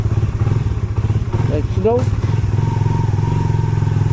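A motorcycle engine runs steadily and close by with a low, continuous drone, while a voice speaks briefly over it and a few clattering thumps break in midway.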